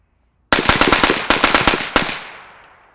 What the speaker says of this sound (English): 10 rounds into the berm as fast as I can